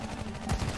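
A gunshot from the sci-fi strategy video game Iron Marines cracks out once, sharp and punchy, midway through a short burst over busy, continuous battle noise.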